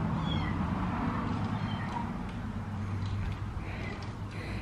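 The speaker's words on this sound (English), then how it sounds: "The kitty kitty's in there meowing." A cat meows faintly a few times over a steady low background hum, the calls soft and somewhat distant.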